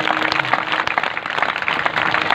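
A crowd at a devotional abhang gathering claps together, a dense, continuous patter of many hands filling the hall.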